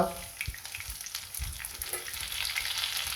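Bay leaf and whole spices hitting hot oil, a soft close sizzle with crackles and a few stirring knocks, rising slightly toward the end.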